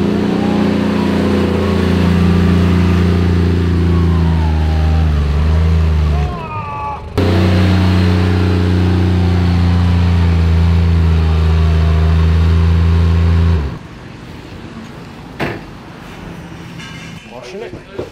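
A four-wheel-drive race car revs hard and accelerates flat out at a beach race, a loud sustained engine roar that cuts briefly, resumes, then drops away near the end, with voices talking over it.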